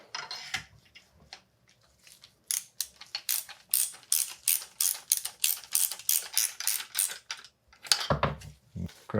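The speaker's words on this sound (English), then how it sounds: "Grab our ratchet." A hand ratchet wrench clicks in quick, even bursts of pawl ticks, close and crisp, repeating steadily during service work on a 2020 Fox Factory 32 Stepcast FIT4 bicycle suspension fork, with a little speech at the start.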